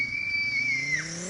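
A person imitates the spool and whistle of a Subaru WRX turbo by mouth, giving a close, steady high whistle that holds for about a second, then drops and fades.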